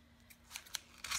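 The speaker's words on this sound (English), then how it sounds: "This is my glue scissors. And just trim off the glue." Scissors snip a few times, trimming excess glue and paper from a clear plastic packaging box lid, crisp close cuts in quick succession with no speech.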